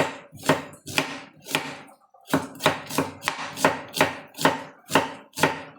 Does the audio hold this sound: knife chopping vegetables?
yes